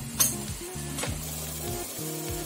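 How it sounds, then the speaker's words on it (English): A pot of water with peas boils on the stove, giving a steady, soft sizzling bubble with a couple of faint clinks, close and quiet, with no talking. "Now the peas water is boiling."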